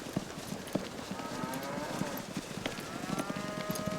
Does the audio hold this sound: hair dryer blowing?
no